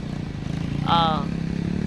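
A motorcycle on a long-distance road trip through Mindanao, Philippines, drones steadily and close by, with a brief whining rise in the middle and a continuous low rumble throughout.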